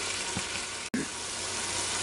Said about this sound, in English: dumped all those onions right on down in there, and they're starting, all of it starting to brown up and cook up together here